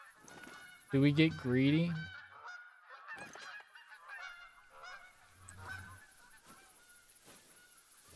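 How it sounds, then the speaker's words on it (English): Geese in the hunting game Hunter: Call of the Wild give a loud burst of nasal honks early on, then fainter calls continue under a person's quiet talk. "If the geese are making noise, will that make it harder for the animals to hear me?"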